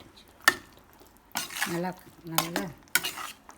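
Prawns stirred and flipped in spicy masala in a pan: sharp metal scrapes and clinks in several bursts over a soft sizzle, with a few spoken words in between.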